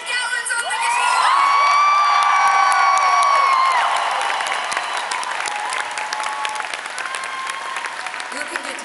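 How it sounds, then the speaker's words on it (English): A concert crowd at Hammerstein Ballroom bursts into loud, sustained applause for the guitarist, mixed with cheering, whoops and shouts, slowly easing off but still clapping steadily. "Give a huge round of applause"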